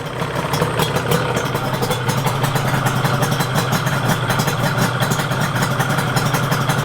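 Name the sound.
Yamaha RZ350 motorcycle engine idling during carb sync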